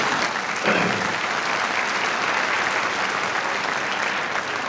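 Commencement crowd applause at a college graduation ceremony, a thick continuous wash of clapping and cheering held at an even level throughout.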